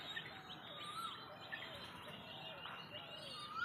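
Pigeons in a flying loft make faint chirps and soft calls against a steady background hum.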